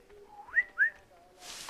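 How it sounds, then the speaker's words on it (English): A game character in Assassin's Creed Freedom Cry whistles a short rising melody with two bright peaks, close and clear, followed by a burst of hiss at the end. "I love the way Hadawelli whistles too."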